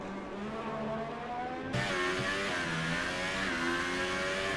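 F1 car engine screaming at high revs through a flying lap at Singapore on ultra soft tyres in a racing video game, loud and steady with a sharp pitch jump as it shifts gear.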